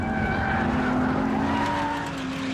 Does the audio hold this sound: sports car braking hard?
yes